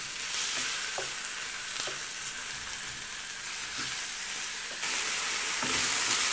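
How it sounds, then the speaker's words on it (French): Turkey escalopes with curry and herbes de Provence sauté in a frying pan, a loud steady sizzle with occasional stirring scrapes and taps, growing slightly louder toward the end. "je fais revenir le tout quelques minutes"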